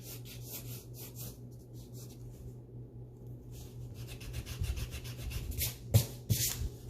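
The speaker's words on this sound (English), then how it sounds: "See, even I use my eraser." An eraser rubs back and forth on paper during a watercolor sailboat sketch, giving soft, quick scrubbing strokes in short bursts that grow louder toward the end.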